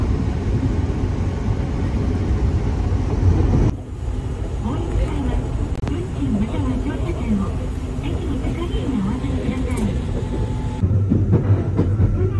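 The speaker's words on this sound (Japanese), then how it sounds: "この列車で日豊本線をここから北上していきます。" A train on the Nippō Main Line rumbles along with a steady loud roar and rhythmic track noise, its tone shifting partway through as people talk over it.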